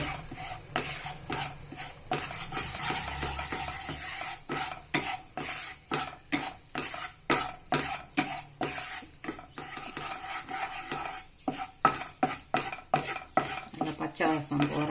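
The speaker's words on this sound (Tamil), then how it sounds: "கோதுமை மாவு நல்லா வறுத்து எடுக்கணும்." Wheat flour roasting over a low flame in a pan for Asoka halwa, with a spoon scraping and stirring in a steady, close rhythm of rasping strokes and a faint sizzle underneath.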